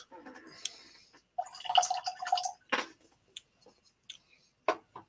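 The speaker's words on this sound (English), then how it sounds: "I'm going to put a bit of water in there" Water dripped into a glass of English single malt whisky gives a close series of soft, wet drips and small liquid splashes, irregular and quiet.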